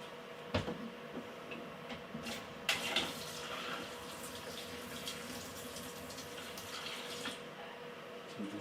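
Water running into a plastic cup from a home draught beer machine's fill setup, a soft steady trickle with occasional clicks and taps, quiet and close.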